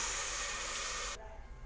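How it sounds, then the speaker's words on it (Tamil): Water hits a hot pan of sautéed dry ginger powder with a loud, broad steaming hiss that lasts just over a second, then cuts down to a low bubbling simmer. "2 கப் தண்ணி நான் ஆட் பண்ணுறேன்."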